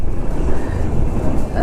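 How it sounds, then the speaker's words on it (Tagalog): Strong wind buffets the microphone on a motorcycle ride through the hills of Ocampo, Batangas, a loud continuous low roar with constant rumbling gusts throughout. "Yun, kita nyo. Lakas ang hangin oh."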